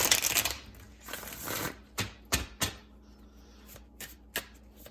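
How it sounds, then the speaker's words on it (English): A deck of tarot cards is given a quick, close riffle, a dense papery burst followed by a few softer taps and slaps as the cards settle, with no talking. "Let me just give it a quick shuffle because those jumped out."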